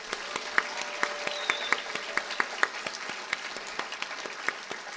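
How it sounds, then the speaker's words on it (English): A crowd of attendees applauds a poem at the inauguration of a university Asian American and Asian Studies BA major, a steady wash of many hands clapping with sharper individual claps standing out throughout. "A round of applause for this beautiful poem."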